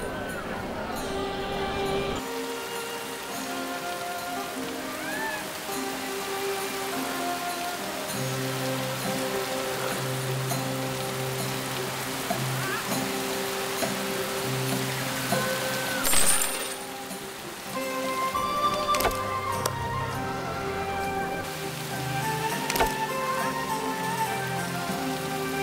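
Steady rain patters and hisses throughout a session of the strategy game The Settlers, The Eastern Realm, running beneath gentle game music with a few brief clinks and a short louder burst partway through.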